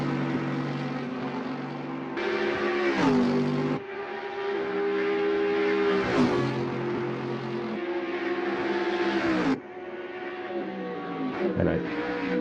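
Race cars, including an AMG, rev side by side in a drag race at the Rouen les Essarts circuit in Assetto Corsa, giving a steady, loud droning engine note with pitch shifts and brief drops, under a talking voice.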